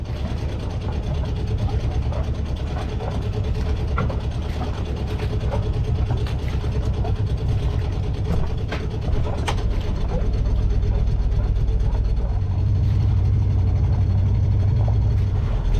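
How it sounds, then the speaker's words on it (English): A sailboat's engine drones steadily while cruising slowly through a marina, a low continuous rumble with light mechanical rattles and wind over the boat, held at moderate revs throughout. "I haven't revved up the engine too much yet, just cruising through the marina"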